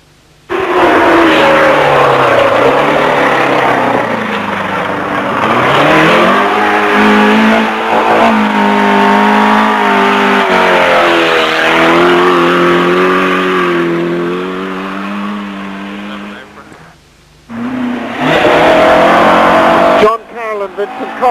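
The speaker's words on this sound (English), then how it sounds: "A little bit hard on the gearbox, Pat." A rally car on a 1985 Carrick on Suir forest stage roars close and loud, its engine climbing and falling through the gears for a long stretch. It cuts out briefly, then revs hard again.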